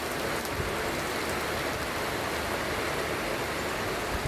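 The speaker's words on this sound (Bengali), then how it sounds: "বারান্দায় দাঁড়িয়ে একটু বৃষ্টি উপভোগ করছিলাম" Steady rain falls continuously, a dense even hiss of drops with no voices, close and unbroken throughout.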